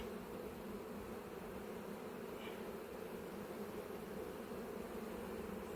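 Honeybees of a newly united hive colony hum in a steady, even drone throughout, a continuous close buzz with no breaks or talk.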